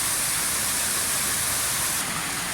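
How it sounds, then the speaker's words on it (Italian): A small waterfall at the Etruscan ruins of Veio produces a steady, dense rush of falling water, close and unbroken, with a slight change in tone near the end. "qui c'è una cascatella"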